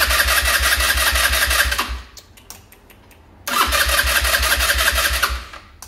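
Jonway 125cc four-stroke scooter with a freshly charged battery fires up and runs with a loud, steady engine drone, cuts out briefly, then starts again and keeps running close by.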